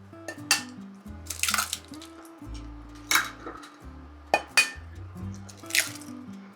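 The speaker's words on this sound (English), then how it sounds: "So let me put these eggs in here." Eggs being cracked into a bowl in a kitchen, with several soft knocks, wet drips and squishes spread through the clip, close and quiet, with no talking.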